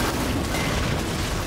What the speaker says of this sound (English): Direct hit. The galleon has been obliterated.